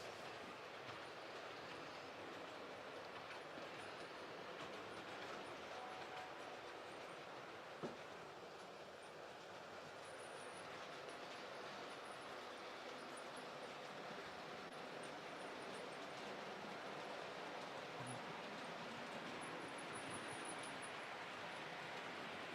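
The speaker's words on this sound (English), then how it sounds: "Oh, you have a Japanese train as well, do you, Leslie?" Steady rumble and clatter of a small model train running along its track, continuous and fairly quiet for the whole stretch, with no voices.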